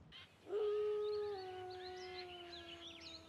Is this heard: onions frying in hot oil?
no